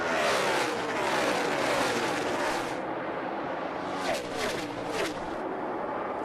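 NASCAR stock cars race around the track in a dense, continuous engine roar, with individual cars sweeping past in rising and falling whooshes toward the end.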